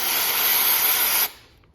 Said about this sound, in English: We can also use some of this contact spray